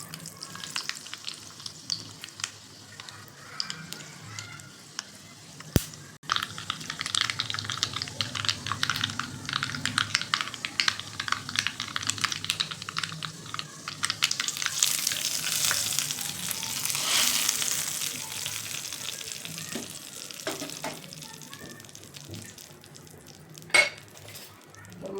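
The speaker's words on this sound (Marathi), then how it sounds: "तर अशा प्रकारे आपल्याला आता तडका द्यायचा आहे." Tempering spices crackle and sizzle in hot oil for a mango chutney, a steady close frying hiss with scattered pops, swelling louder and brighter midway before settling, with an occasional utensil clink.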